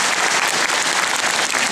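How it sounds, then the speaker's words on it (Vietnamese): A congregation at a European Catholic pilgrimage gathering in Banneux breaks into sustained, dense applause, loud and close, with many hands clapping steadily throughout and no pause. "Một tràng pháo tay dâng lên Thiên Chúa, tôi nghĩ rất là cần thiết"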